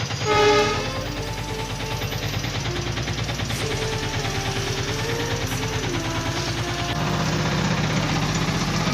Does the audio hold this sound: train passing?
yes